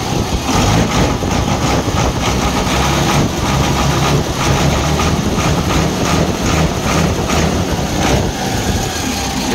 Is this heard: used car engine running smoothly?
yes